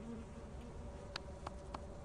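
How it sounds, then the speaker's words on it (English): Bees buzzing from a hive in the video game Lethal Company, a faint steady insect drone with a few short clicks and ticks over the top, with no talking. "I'll draw the bees one direction"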